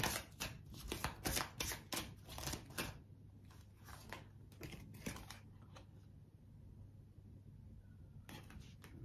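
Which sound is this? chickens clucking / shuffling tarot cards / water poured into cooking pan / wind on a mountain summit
shuffling tarot cards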